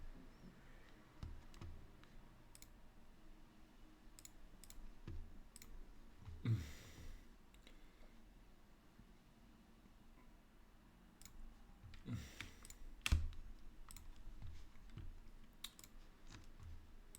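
Quiet computer keyboard typing and mouse clicks in an indoor room, sparse, soft taps and sharper clicks scattered irregularly, with a few brief bursts of rapid keystrokes, close and faint.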